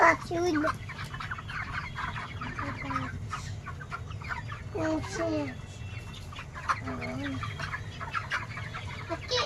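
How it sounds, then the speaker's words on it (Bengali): Chickens cluck repeatedly at close range on a poultry farm, their short, rising calls recurring throughout over a steady background hum, while people talk nearby. "এখানে মুরগিগুলো কোথায়?"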